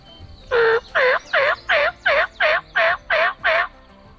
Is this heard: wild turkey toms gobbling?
yes